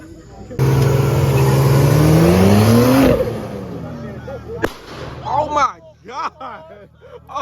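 Race car at a street race in Mexico roaring as it accelerates hard past, loud and rising for a few seconds before fading, followed by excited shouting voices.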